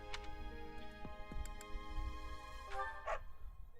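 Dog barking in the video game Fire Emblem: Three Houses: a few short, soft yips and barks over a quiet game background, with faint clicks and no talk.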